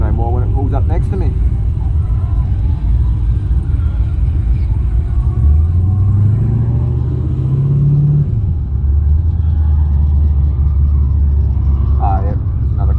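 A Holden Commodore wagon races alongside at a roll-racing event at The Bend, its engine a loud steady rumble with a rising drone mid-clip, heard from inside a VX Commodore with a stock LS1 engine under a continuous roar.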